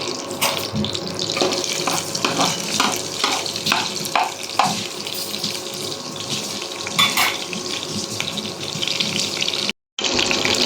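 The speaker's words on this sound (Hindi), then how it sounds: "तो तेल हमारा हो रहा है गर्म, तेल भी ऑलमोस्ट हो चुका है गरम। इसमें डालते हैं पहले तो हरी मिर्च।" Green chillies hit hot oil in a pan while pasta is being cooked, a steady loud sizzle and crackle with repeated stirring scrapes running throughout.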